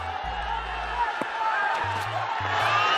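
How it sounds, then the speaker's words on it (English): A large cricket stadium crowd at an Afghanistan vs Ireland match roars and cheers steadily in the distance, with a commentator talking over the noise. "the crowd is absolutely loving it"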